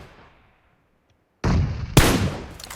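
Gunfire in the mobile battle-royale video game PUBG Mobile. After a near-silent stretch, a sharp loud shot hits, then a second, heavier blast rings out with a decaying tail, close and forceful.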